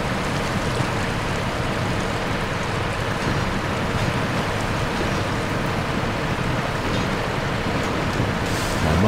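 A Caterpillar truck hauling a trailer through half-deep mud in SnowRunner, a steady loud rumbling churn of engine and sloshing mud continuing unbroken throughout.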